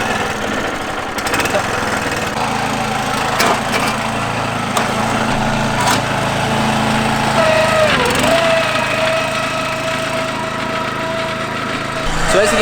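A core aerator lawn machine runs steadily in the middle distance on a lawn being renovated, its engine drone continuous with brief irregular knocks and a pitch change partway through.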